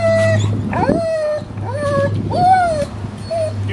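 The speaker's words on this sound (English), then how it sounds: "You can hear Odie and Daisy over there wanting to come out" Dogs whine and whimper in high, wavering cries, repeated several times close by over a steady low hum.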